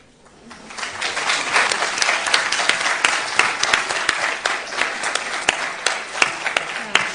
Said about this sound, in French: Je pense qu'on peut bien applaudir Jonathan parce qu'il s'est bien défendu sur cette journée.